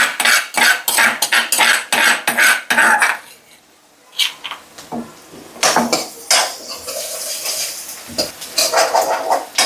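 Garlic with a little ginger goes into a pan as curry cooking begins, with close clattering of utensils against cookware and a soft sizzle, and a brief pause partway through.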